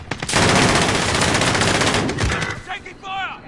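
Dense, loud burst of automatic gunfire from a video game firefight, continuous rattling shots for most of the span, easing toward the end where brief voice-like sounds appear.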